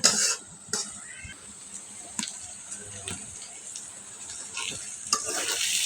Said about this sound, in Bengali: দিয়ে দিলাম মরিচের গুঁড়ো অল্প এখন এটাকে ভেজে তারপরে দেখো